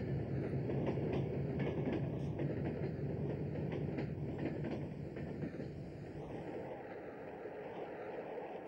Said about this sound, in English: The train was set in motion without a driver.